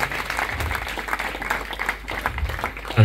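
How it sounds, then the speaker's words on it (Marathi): Audience at a live hypnotism stage show applauds a woman on stage, a short burst of uneven clapping with a faint murmur beneath it. "जरा जोरदार टाळ्या होऊन जाऊ द्या यांच्यासाठी."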